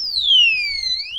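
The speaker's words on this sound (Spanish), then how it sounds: "sí es un método para evitar que la alarma suene muy fuerte" A motorcycle disc lock alarm muffled under a jacket wails alone at close range with a single electronic siren sweep that falls in pitch and then climbs again.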